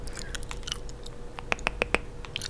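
Gum chewing close to the mic, a string of quiet wet smacks and clicks with a quick run of sharper snaps near the end, no speech.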